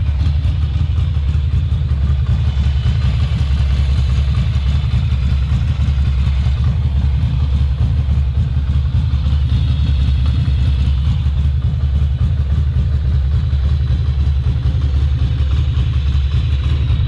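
A Ducati Monster 620 motorcycle engine idles loudly and steadily nearby, a constant low throb with a rattling, clattering texture throughout.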